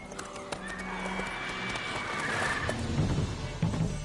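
The horse Roach in The Witcher 3 gallops, with hooves clip-clopping in a fast, steady rhythm under dense game sound effects and a brief neigh, close and fairly loud.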